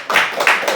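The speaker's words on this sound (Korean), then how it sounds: "이럴 때 우리는 박수를 쳐요." A church congregation bursts into brief clapping during a sermon, with two or three loud, close surges of claps over less than a second.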